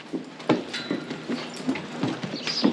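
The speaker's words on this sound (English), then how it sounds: "now that we got all the horses in, we can let in the big field" Horses walk past on a farm as they are brought in before release into a big field, their hooves clip-clopping in an uneven rhythm of about seven close, moderately loud strikes over a steady background.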